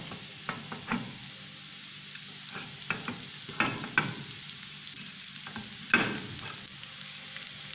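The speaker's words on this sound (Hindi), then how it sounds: "पहले प्याज डालेंगे, इसको हमने ज़्यादा ब्राउन नहीं करना है, थोड़ा सा हमने इसको पकाना है।" Chopped onions frying in about a spoonful of ghee for spicy fish curry, a soft steady sizzle close by, broken by occasional spoon scrapes and clinks against the pan; no talking.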